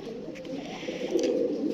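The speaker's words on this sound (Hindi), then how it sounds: "ये सारे जो कबूतर हैं ना, जितने भी ये कबूतर आपको दिखा रहे हैं" Pigeons kept in a breeder's loft give low, soft cooing that murmurs steadily at a distance, faint and continuous, with no voices over it.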